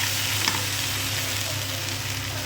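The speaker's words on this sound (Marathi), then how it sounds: "ते पण आता व्यवस्थित मला फ्राय करून घ्यायचं." Spices and vegetables frying in a pan for paneer masala, a dense, steady close sizzle with a small clink near the start.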